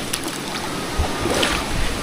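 Flood water rushing through a river, a loud, continuous broadband wash with steady churning and no pauses.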